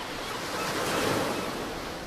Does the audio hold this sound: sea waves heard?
yes